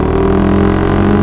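A motorcycle engine revs steadily up close, holding a loud, even drone just before the rider pulls a wheelie.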